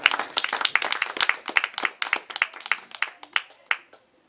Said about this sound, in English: I haven't had this people clapping after individual poems